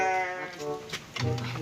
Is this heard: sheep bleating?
yes